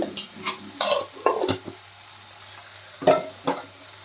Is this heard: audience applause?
no